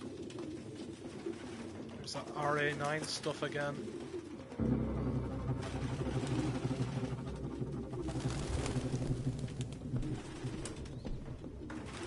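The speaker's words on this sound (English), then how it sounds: "No human could live with all these fucking pigeons." Pigeons coo in a grimy apartment in Detroit: Become Human, soft repeated burbling calls rising and falling over a low room hum, while someone speaks briefly over them.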